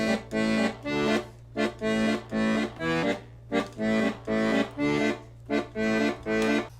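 Rhythmic chords on a 120 bass accordion in a tango bass pattern, short punchy stabs grouped in an uneven repeating beat over a sustained low drone, heard up close with no talking.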